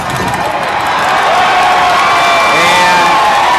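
A high school football crowd roars and cheers in the stands at an East Kentwood versus Rockford game, loud and steady, with the dense wash of voices swelling over a few seconds.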